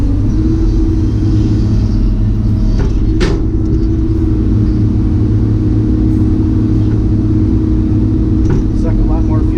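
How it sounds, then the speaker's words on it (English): A boat engine runs at full throttle on a Goose MT, giving a loud, steady, continuous rumbling drone with a faint thump partway through. "Over to something which I don't normally do, running at full throttle. Definitely has got a lot more speed."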